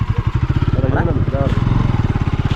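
Motorcycle engine running steadily while riding with a passenger on a village road through forest, a throbbing rhythmic pulse close by, with a person's voice briefly audible over it.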